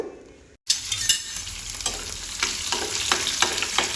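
Cut green chillies dropped into hot coconut oil, hitting with a sudden loud burst of sizzle after a brief silence, then spitting and crackling steadily up close.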